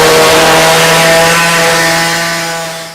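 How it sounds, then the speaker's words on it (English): A power saw rough-cuts rusted thin-gauge sheet metal with a loud, close, continuous harsh whine that tapers off as the cut ends. "So I'm going to rough cut this out with the saw"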